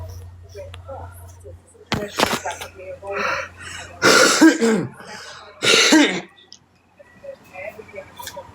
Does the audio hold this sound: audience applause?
no